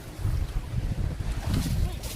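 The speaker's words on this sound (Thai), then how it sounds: "ตรงนี้ลมแรงมากเลยนะครับ" Strong wind at a reservoir buffets the microphone with a loud, continuous low roar that surges and eases.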